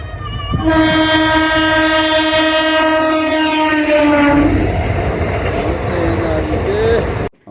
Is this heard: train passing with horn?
yes